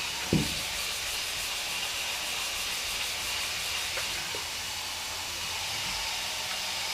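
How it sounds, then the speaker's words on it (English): A fender patched with Bondo filler is sanded with 320 grit sandpaper, a steady close rubbing hiss that runs continuously, with one light knock at the start. "Got a little bit of Bondo right there, not a big deal. We'll hit that with 320."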